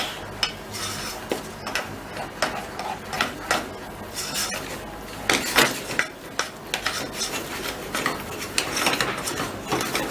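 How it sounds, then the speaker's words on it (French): Flour being mixed into chocolate cake batter in a bowl, a spoon or spatula scraping and knocking against the sides in repeated clinks and rubs, close and fairly loud with no talking. "nous allons ajouter entièrement la farine. Voilà, et bien mélanger."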